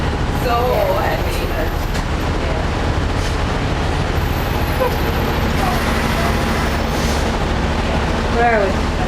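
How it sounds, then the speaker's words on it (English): A London double-decker bus interior carries a continuous low engine rumble and road noise, a steady dense drone with occasional rattles, as people talk nearby. "We are inside a double-decker bus"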